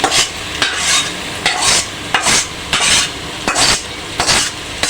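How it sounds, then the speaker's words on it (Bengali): Rice and lentils fry in a pan for khichuri while a utensil stirs them. Steady sizzling sits under about eight regular scraping strokes, heard close and loud. "চাল আর ডালটা আমি ভালো করে ভেজে নেব।"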